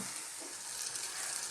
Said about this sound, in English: I've got like a tablespoon of an unsalted butter in there, which, as you can see, we're melting